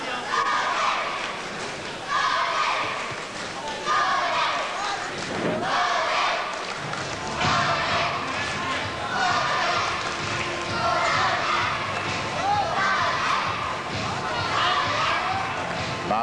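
A Muay Thai crowd at Picketts Lock roars and cheers in support of fighter Ronnie Green, a loud sustained wall of shouting with surges, thumps and occasional voices rising above it.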